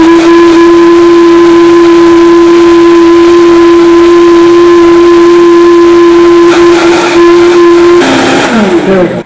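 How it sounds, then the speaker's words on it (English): A loud, constant blender motor whine hums steadily for several seconds while making cashew milk, then shifts lower and rougher as the load changes near the end. "It's the world's slowest blender for now."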